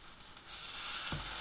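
Slices of Arme Ritter, a sweet German fried bread, crackle and sizzle in a hot pan, with a steady frying hiss throughout and a brief louder burst of sizzle near the end.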